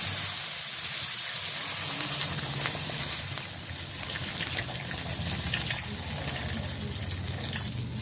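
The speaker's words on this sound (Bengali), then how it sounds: "আমি এখন জল দিয়ে দেবো।" Water is poured into masala-fried potatoes in a pan in a village kitchen, giving a steady hissing gush with bubbling that continues for several seconds, fairly close.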